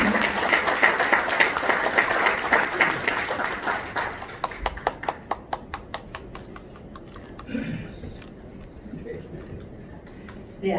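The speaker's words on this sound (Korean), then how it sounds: "저분한테 우리가 큰 박수를 보냈으면 좋겠습니다." Loud audience applause at a business breakfast forum in Gangnam welcomes a speaker, dense clapping that thins into scattered individual claps and fades, with a few voices murmuring near the end.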